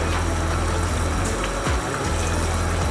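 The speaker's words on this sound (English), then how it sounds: "So I've just put aside some brown vinegar right here. I'm going to go ahead, I'm going to pour" Brown vinegar poured into a pot of Caribbean oxtail stew gives a steady, close liquid pour that runs without pause over a constant background wash.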